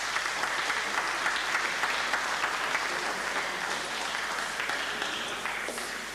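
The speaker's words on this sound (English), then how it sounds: "You heard the applause." Sustained applause fills a room of onlookers after Intelsat 801 separates from an Ariane 44P launcher, a steady wash of clapping that holds at even strength for several seconds with no voices standing out.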